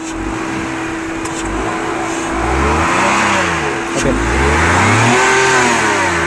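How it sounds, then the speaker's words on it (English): A Renault Triber car engine runs steadily and then revs higher, the pitch sweeping up and down as the throttle is worked, with a brief spoken word at the start. "it's slightly more noisy than your 4-cylinder engine"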